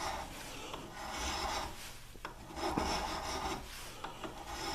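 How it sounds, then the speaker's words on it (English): Hand filing on a metal long-range target sight for a T/C Hawken rifle: steady rasping strokes in repeated passes, close and moderately loud, with no talking. "it takes a lot of practice to be able to do a good job filing on something like this"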